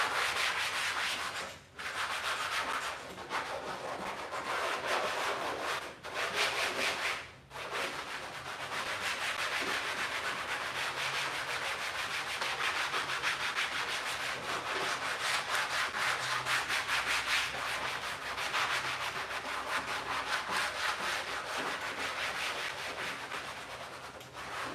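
Steady, close-up scrubbing of a Mini Cooper's grimy interior with a Scrub Daddy sponge, continuous and fairly loud, broken by a few brief pauses; no voices.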